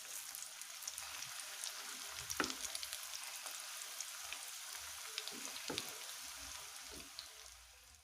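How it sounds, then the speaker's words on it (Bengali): Egg-battered cauliflower pakoras frying in oil on a medium flame, a quiet steady bubbling sizzle like light rain with a few faint clicks, no talk. "মিডিয়াম ফ্লেমে করে এগুলোকে ভাজতে হবে।"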